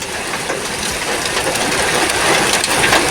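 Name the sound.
rain falling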